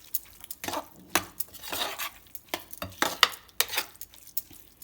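Moong dal chutney being tempered and stirred in a pan, with repeated clinks and scrapes of a metal spoon against the pan in an irregular rhythm, close up and without talk.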